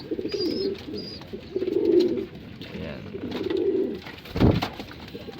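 Pigeons coo close by in soft, throaty rolling calls repeating a few times, with one short spoken word near the end.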